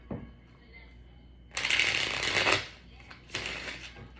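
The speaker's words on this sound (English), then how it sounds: "Let me shuffle. I'm gonna clarify with the Panther Oracle deck." A Panther Oracle card deck being shuffled by hand during a tarot reading, with a faint riffle followed by two louder, crisp bursts of cards slapping and fanning together.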